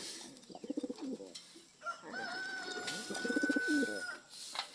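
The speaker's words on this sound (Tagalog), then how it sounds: "Gutom na gutom na yan mga kalapatids." Hungry pigeons coo in soft, throaty bursts, several rounds of low rolling calls close by, with a thin whistling tone running underneath in the middle.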